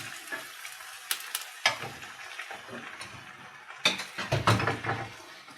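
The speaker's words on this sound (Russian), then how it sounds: "И слегка мы его прижарим." Cabbage for Greek-style stewed cabbage with rice is tossed into a pan with a little oil, giving a soft continuous sizzle with a few louder hissing bursts as it is stirred, close by and without talk.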